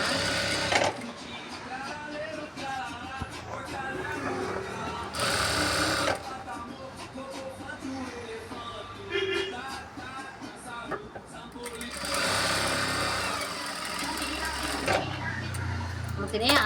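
Sewing machine running in bursts while stitching a double-folded half-inch blouse hem on a halter neck blouse, a steady mechanical whir starting and stopping several times under ongoing talk.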